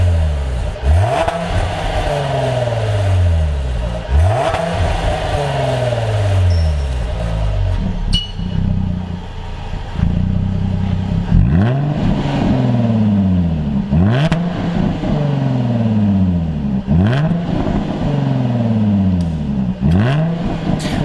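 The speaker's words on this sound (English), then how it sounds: "let's have a listen to what the stock exhaust sounds like" A Jaguar F-Type with its stock exhaust revved repeatedly while stationary, about seven rising and falling blips loud and close, with a brief pause midway and clinking sounds around the revs.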